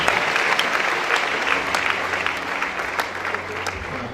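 A church congregation applauds steadily and loudly, the dense clapping filling the room without a break for about four seconds.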